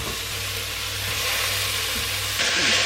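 Diced potato and turnip added to a pan of cooking onions, leek and garlic for nettle soup, a steady sizzle and frying hiss that grows louder and brighter near the end, with a low background hum.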